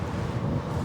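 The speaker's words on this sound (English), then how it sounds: "The wind is coming in so hard that I could barely even hear myself talk." Strong, chilly wind rushes steadily over the microphone while riding an eBike, a loud, low, buffeting roar with no voices.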